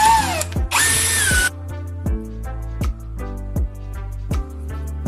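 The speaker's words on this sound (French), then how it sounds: "Fixez l'attache dans un étau et élargissez le trou avec une perceuse" A power drill widens the hole in a cable tie clamped in a vise, starting with a high whine and shifting pitch, then settling into a steady motor drone broken by repeated brief dips, loud and close.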